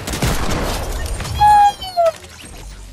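Video-game gunfire in Fortnite: a burst of rapid shots and impacts with a sharp, loud tonal blast midway and another brief one after, amid a noisy mix of game sounds.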